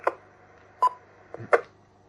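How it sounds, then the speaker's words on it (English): A telephone sounds in the background during an amateur two-metre radio net, giving a few short, spaced electronic chirps against a quiet backdrop. "I've just got the phone ringing in the background."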